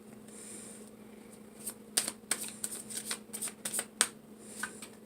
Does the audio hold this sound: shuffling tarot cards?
yes